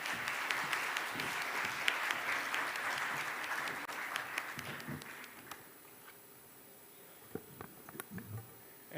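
A large audience at the third Summit for Democracy, an expert roundtable, applauds to welcome the UN Secretary-General's Envoy on Technology as keynote speaker. The clapping is dense and sustained, then fades out over the last few seconds.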